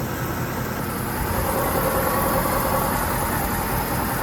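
A worn front wheel bearing on a raised 2005 Lexus RX 330 hums and sings steadily as the wheel spins, a continuous droning whir heard close up without talk.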